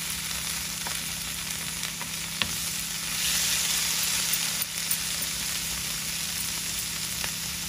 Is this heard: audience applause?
no